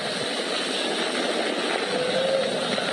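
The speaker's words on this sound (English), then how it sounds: "Flying crew on board Dragon and Falcon 9, and look at them go." A SpaceX Falcon 9 rocket carrying a crewed Dragon capsule roars during launch, a dense, steady broadband rumble with no breaks.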